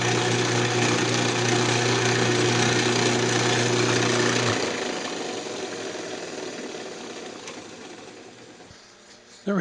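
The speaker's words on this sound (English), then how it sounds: "And then we'll just sand it up." Sanding a segmented wooden bowl spinning on a lathe: a loud, steady motor drone with a grinding, rasping edge that winds down and fades midway, leaving a softer hum before a sudden bump at the end.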